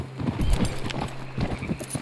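Horse hooves clip-clop in Red Dead Redemption 2, a steady run of soft, close steps over a low, constant background hum, with no talk.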